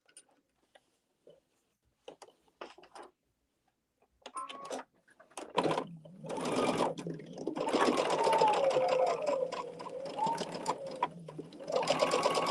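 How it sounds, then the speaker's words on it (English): A sewing machine stitches slowly through fabric over pins while quilting blocks, running in a steady continuous hum after a few brief taps, close and fairly loud, alone without talk. "I am sewing over my pins, which I normally don't, but I'm sewing slowly"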